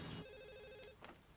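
A telephone rings in a room, one short electronic trill burst followed by a quieter second chirp, fairly faint and heard alone without talk.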